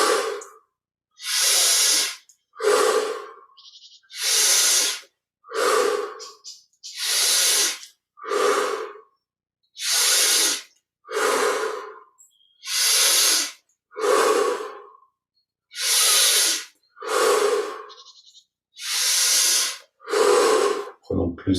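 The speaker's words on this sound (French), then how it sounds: "20 respirations profondes, inspire par le nez," Loud, close breaths drawn in through the nose and pushed out through the mouth during a Kriya Yoga deep-breathing exercise, repeating in a steady rhythm of about twenty strong cycles with brief pauses between them.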